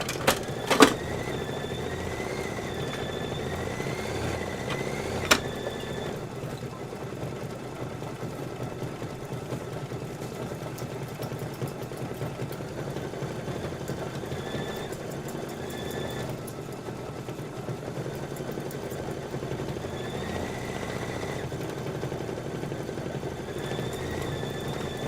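A home embroidery machine runs steadily for a quiet quilting project, a continuous mechanical hum and rapid needle chatter with brief clicks near the start and nothing else over it.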